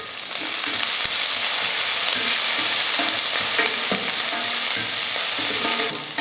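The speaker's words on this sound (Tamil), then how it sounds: "வெங்காயம் இந்த அளவுக்கு வதங்கிட்டால் போதும்" Chopped onion, green chilies and curry leaves sizzle loudly in hot oil, with a continuous crackling fry and the scrape and clatter of a spatula stirring throughout.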